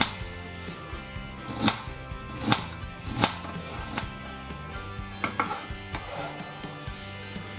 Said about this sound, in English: We're just going to cut our garlic grossly, same thing for the shallot